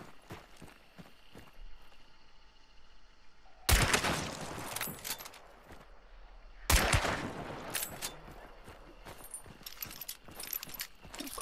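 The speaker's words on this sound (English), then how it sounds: "Shots." Gunfire in the game Hunt: Showdown, two sharp loud shots a few seconds apart, each with a booming tail, over quiet rustling and footstep-like ticks.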